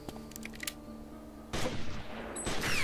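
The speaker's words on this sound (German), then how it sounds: "er schießt da echt aus so einem Winkel auf uns" Gunfire erupts in the video game Omerta: City of Gangsters, a dense burst of rapid shots after quieter game sounds and music, loud and sustained to the end.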